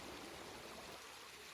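River flowing right beside a campsite tent, a steady soft rushing wash of water, faint and continuous with no one speaking.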